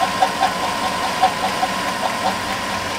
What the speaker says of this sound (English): if your lifter has failed, it's gonna sound something like this.